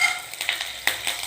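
Curry leaves and mustard seeds hit hot oil in a pan, a short burst of close, hissing sizzle with small crackles and one sharper pop.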